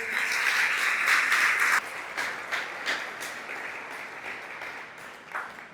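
A church congregation applauds together in a sustained burst that is loudest at first, then thins into scattered claps and softer rounds of clapping, with a faint voice underneath.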